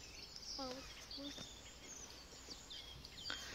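Small birds chirping in a residential courtyard in Latvia, a scatter of short high tweets and calls at moderate distance over a quiet outdoor background.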